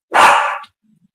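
A dog gives one loud, close bark, abrupt and sharp, then quiet follows; the dogs are barking at a coyote outside.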